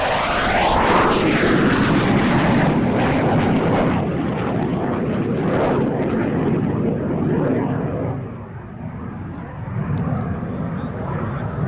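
A Lockheed F-104 Starfighter jet of the Italian Air Force flies an aerobatic display, a loud, sustained roar that swells and shifts as it passes overhead, then tapers off into a distant rumble.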